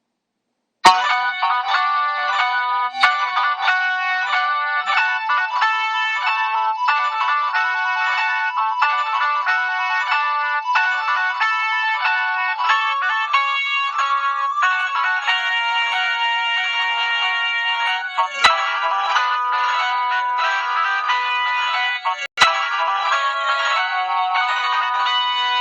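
Ringtones from a Motorola C168i mobile phone, bright synthesized polyphonic melodies playing loudly and continuously, with short cuts where one tune gives way to the next.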